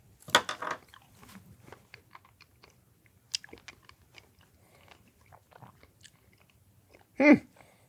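Chewing a bacon-flavored candy cane up close, with a loud crunchy bite near the start, soft scattered chewing clicks through the middle, and a second sharp crunch near the end.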